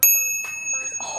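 A newly installed bicycle bell rings loud and sharp at the start of a campground outing, its bright metallic ping decaying over a second with a second softer ring and light chatter behind.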